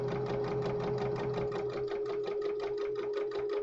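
A sewing machine stitches fabric along a guide tape, giving a fast, even, continuous mechanical chatter with a steady motor whine, close and alone for a few seconds.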